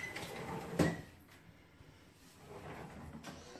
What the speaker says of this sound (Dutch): dan doen we die deuren weer dicht